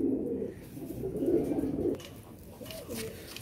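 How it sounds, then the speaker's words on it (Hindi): A male Madrasi pigeon coos in low, rolling phrases, several close bursts at even volume over a few seconds, with no voices. "और ये भाई मेरा नप्ता कबूतर है"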